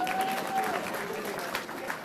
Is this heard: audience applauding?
yes